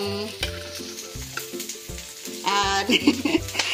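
Pansit bato being sautéed in a pan, with repeated scraping stirs and clinking over a light sizzle, close and moderately loud, growing busier near the end.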